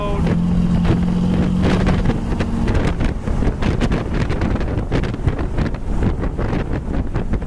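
Black 1934 Ford street rod driving down the road, a steady engine rumble blended with heavy wind buffeting over the microphone, continuous and fairly loud throughout.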